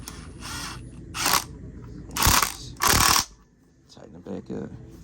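A replacement caster on a floor jack being tightened back into place, with a few bursts of ratcheting clicks and a voice speaking briefly in between.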